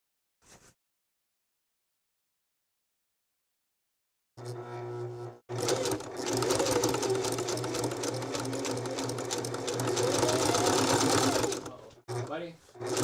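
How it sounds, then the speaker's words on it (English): A sewing machine runs a zigzag stitch while stitching a rope bowl, a fast steady mechanical chatter lasting several seconds after a brief start, close and loud, stopping near the end, with a short burst of running again. "go in with the other larger zigzag stitch later"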